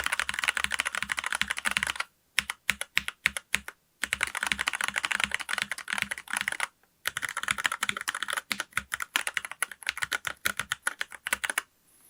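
A mechanical keyboard with stock brown switches typed on in fast, crisp clacking bursts, close and loud, broken by two short pauses.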